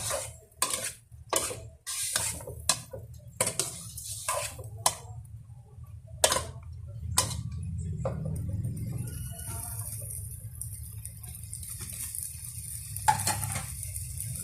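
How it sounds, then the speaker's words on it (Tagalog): Chicken sautéing in a pan for a chicken and malunggay dish, a steady low sizzle under a run of sharp, rhythmic clacks and scrapes of a spoon against the pan, close and with no talking. "nailagay na po natin ang ating manok. Igigisa lang po natin to saglit"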